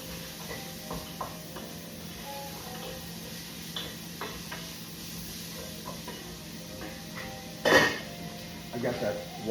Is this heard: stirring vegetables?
yes